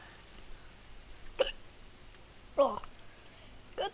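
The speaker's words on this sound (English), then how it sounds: "Got the hiccup!" Three separate hiccups spaced about a second apart, short and sharp over a quiet hiss with a faint hum, in the PC game The Ship.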